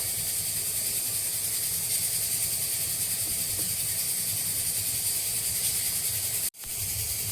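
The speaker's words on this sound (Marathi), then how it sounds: "तांदूळ आपण मिक्सरला पिसून घेऊया" A loud, steady mechanical whir and grinding roar runs unbroken as a kitchen mixer grinds rice into flour, then cuts off abruptly near the end.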